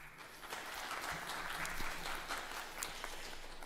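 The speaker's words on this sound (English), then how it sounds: "Please give a round of applause." A steady round of applause fills a hall at a nursing DNP hooding ceremony, a soft, distant wash of many hands clapping evenly throughout with no voices over it.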